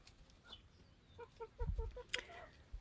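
Young turkeys about four to five months old give a short run of soft, rhythmic peeping calls, faint and close by, with a few scattered clucks and rustles around them.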